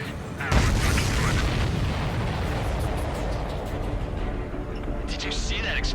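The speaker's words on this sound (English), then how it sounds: "Did you see that explosion?" A deep booming explosion from the Ace Combat 7 flight game hits suddenly and settles into a sustained, loud rumbling roar that fills the scene, with no talk over it.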